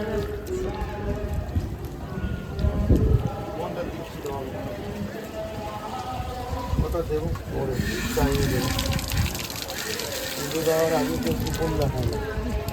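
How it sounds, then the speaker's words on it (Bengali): Tap water runs steadily at a wash station at the Chakla Dham Loknath temple grounds while feet and hands are washed, a continuous splashing flow under people talking nearby throughout. "এখান থেকেই বেশ সুন্দর করে পা ধোয়া হয়ে যাবে ও আবার হাতও ধুয়ে নি"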